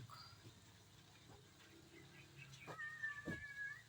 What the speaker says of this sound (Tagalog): naamoy na ng pusa yung ating chicken. Nagmimiyaw na naman siya